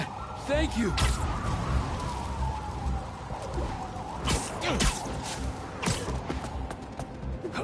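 An ambulance siren wails continuously in the background of the video game Marvel's Spider-Man 2, mixed with rumbling traffic and clattering effects, while a voice briefly speaks.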